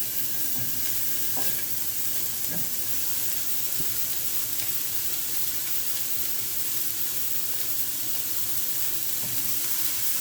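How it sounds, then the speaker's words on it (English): Stew meat browns in a pan over medium-high heat, frying with a dense, continuous sizzle. The sizzle stays loud and close, with a few faint scraping stirs mixed in. "We're going to brown our stewed meat."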